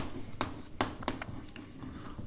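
Chalk or a marker taps and scratches across a board in short bursts as an equation is written, fairly quiet with a low room hum beneath.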